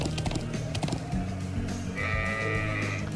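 Sheep bleating in the video game Trails of Cold Steel, a short wavering bleat rising clearly over a busy game background of music and ambience.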